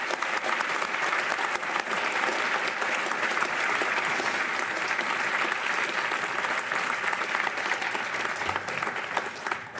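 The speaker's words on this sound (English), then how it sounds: "Just another round of applause for Dr. Liz McGuire and Senator Curtis" An audience at a public service talk with Senator John Curtis gives a long, full round of applause, many hands clapping densely and steadily close by, fading slightly at the close.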